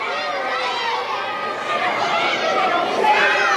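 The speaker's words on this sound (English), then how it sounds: "Crowd, I believe, trying to tell Eddie Browning here." Crowd at an AMW Thanksgiving Turmoil 2016 wrestling event shouting and chattering steadily throughout, a dense mass of voices with a few louder calls rising near the end.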